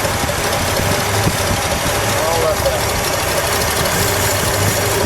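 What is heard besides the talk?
1972 Lincoln Continental Mark IV 460 V8 engine idling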